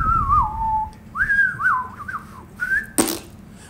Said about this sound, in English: Presently, I began very softly to whistle a sweet yet very lively air,